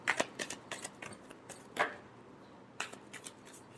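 Tarot cards shuffled in the hands during a reading: a run of brief papery riffles and soft slaps, close and fairly quiet, with short pauses between bursts and no voice.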